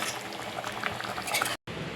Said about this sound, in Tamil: இது ஒரு 5 நிமிஷம் கொதிக்கிட்டோம்.